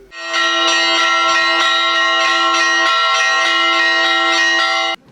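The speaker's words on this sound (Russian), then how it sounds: "Матушка Феодосия демонстрирует свое мастерство звона в колокола." Church bells ring at the Trinity-Stephen-Ulyanovsky men's monastery in the Ust-Kulom district. Loud, close and resonant strikes repeat in a steady rhythm over a sustained ringing drone, then stop abruptly, with no voices.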